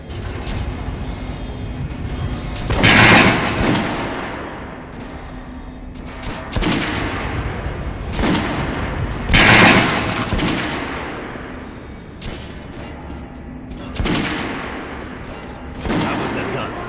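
Guns firing in the video game Metro: Last Light Redux, with heavy bursts of shots at intervals over a steady background and voices talking between the volleys.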